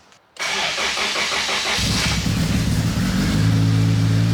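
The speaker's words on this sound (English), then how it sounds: "Let's go make sure this thing starts." A car engine cranks and catches after a moment of silence, then settles into a steady, loud idle with a low rumble.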